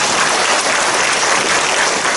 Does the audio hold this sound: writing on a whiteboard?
no